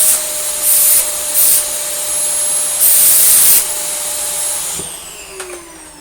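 A Dyson DC46 Allergy Parquet vacuum cleaner runs with a steady high whine and broad airflow hiss, surging louder in several bursts as suction is blocked, then powering down with a falling whine near the end.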